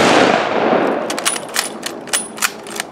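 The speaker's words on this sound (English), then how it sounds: "Ready? Aim? Fire!" A Memorial Day ceremonial rifle volley rings out outdoors: a loud opening blast with a long decaying echo, then several sharp cracks in quick, uneven succession.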